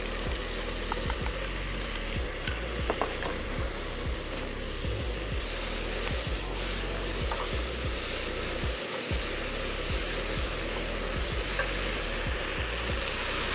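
Mushrooms frying in hot oil left over from cooking meat, for Korean bibimbap; a loud, steady sizzle and crackle continues throughout, close and alone without speech.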